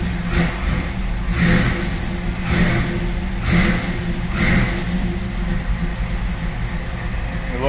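A 1932 Ford coupe engine idles after a cold start, loud and close, with a lumpy rhythmic beat and slight surges about once a second. No voices are heard.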